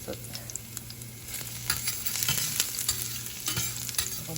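Garlic fries and browns in a pan, giving a continuous close sizzle and crackle with occasional stirring scrapes, growing slightly louder toward the end.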